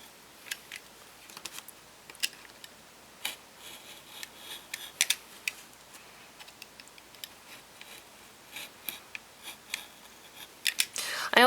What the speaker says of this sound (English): I also like to cut at a bit of an angle going down towards the center of the underside of the plate